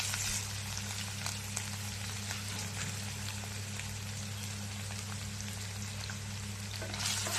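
Paneer pieces fry lightly in a pan with a soft, continuous crackle and sizzle, steady and fairly quiet, under a low background hum.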